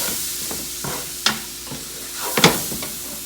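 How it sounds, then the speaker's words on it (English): Dry sherry sizzling in a pan while cooking jambalaya, a steady frying hiss with a few sharp scrapes and clinks of stirring, no voices. "We're going to let the sherry cook out."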